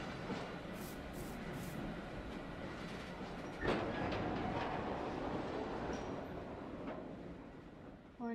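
A rail wagon rolls along the track in Minecraft, a steady low rumble with a sharp click partway through, faint voices over it.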